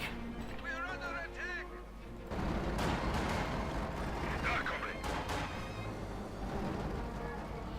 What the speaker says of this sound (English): Nice hit there from the light gun on the side of the Sherman tank.